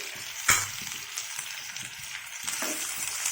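Ivy gourd curry frying in oil with turmeric and salt in a pan, stirred now and then: a steady close sizzle with a sharp scrape or clatter of the spoon near the start and again later, no talk.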